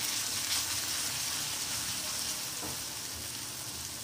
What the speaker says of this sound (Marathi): मसाला, गरम मसाला आणि हे परतून घेऊया